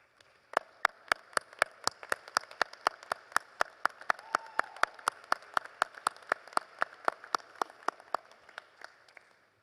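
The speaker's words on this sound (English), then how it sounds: "Please stand and give them a round of applause." Audience applause at a university graduation and hooding ceremony in Daytona Beach, Florida, a steady wash of clapping from a large crowd, with prominent sharp claps near the microphone repeating in a regular rhythm.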